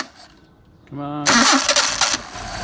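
A Mercedes 190SL engine with rebuilt carburetors cranks with a brief starter whine, then catches and roars into a loud, rough idle with choke on, while someone speaks briefly over it.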